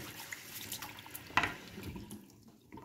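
Tap water running over a cast-iron pan as it is rinsed at a sink, a quiet trickling splash with one brief clatter midway before the flow fades.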